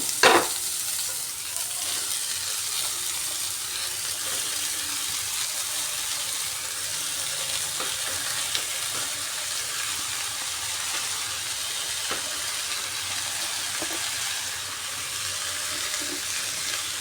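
Chopped spinach added to a hot pan, frying with a continuous loud sizzle while it is stirred, producing steady crackling hiss and occasional scraping from the spoon, close up with no talking.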